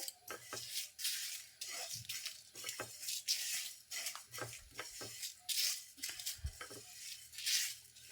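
Dry spices, including fennel seeds and chillies, are stirred and roasted in a dry pan for gur mango pickle, with repeated scraping and clinking strokes in an irregular rhythm, close and fairly quiet, without talk.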